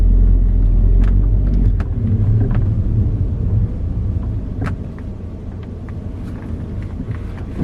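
A 2000s Audi S3 8L on a road test drive, its engine and tyre roar a steady low rumble from inside the cabin, slightly easing in the second half, with occasional faint clicks and no talking.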